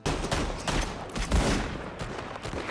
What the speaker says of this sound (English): they try and take it by force, aka Gibson getting out the guns.